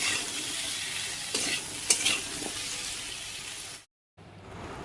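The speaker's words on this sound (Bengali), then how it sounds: "এবারে এই যে আলুর তরকারিটা বসিয়ে দিলাম।" Potato curry cooks in a pan with a soft, continuous sizzle and a few louder stirring clatters near the middle, then cuts to a brief silence and resumes faintly.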